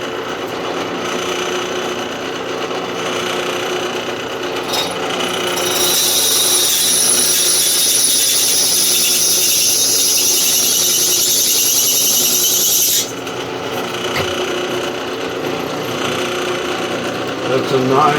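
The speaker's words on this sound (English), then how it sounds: "so I can make these drill holes" A power drill bores holes through a Volkswagen air-cooled Type 3 engine case during a conversion with an offset oil cooler, a steady whining drone that swells louder in the middle stretch, with faint talk and workshop noise around it.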